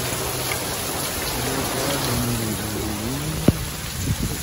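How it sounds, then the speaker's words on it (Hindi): Steady rain falls outdoors in wet weather, a continuous broadband hiss with a few louder drips and one sharp tap near the end. "बारिश हो रही मौसम"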